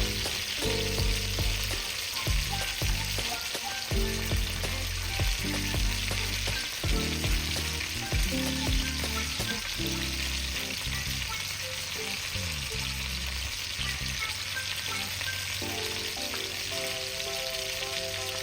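Beef burgers fry in a pan while cheese melts on top, giving a steady, close, loud sizzle with frequent small crackles and pops throughout, and no voices.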